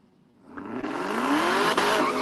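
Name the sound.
drag race cars, a Mercedes against a Camaro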